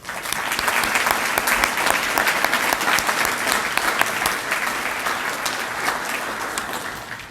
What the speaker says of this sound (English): please stand so we can give them a round of applause.